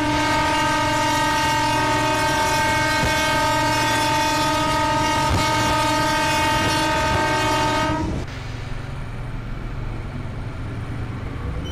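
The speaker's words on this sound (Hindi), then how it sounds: "अब आगे एक बार हॉर्न बजाओ" A loud, sustained train horn from a Sealdah–Dankuni EMU local in a train simulator game blares for several seconds over rumbling rail noise, then cuts off, leaving the steady rolling clatter of the train.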